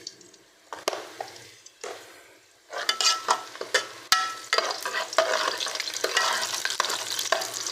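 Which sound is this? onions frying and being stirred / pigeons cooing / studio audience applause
onions frying and being stirred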